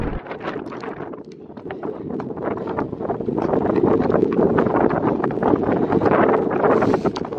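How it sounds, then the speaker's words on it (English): Wind blowing outdoors on a horse show day, a loud, steady buffeting rush across the microphone that grows stronger midway, with faint rustling and no talking. "hopefully the wind will stay down"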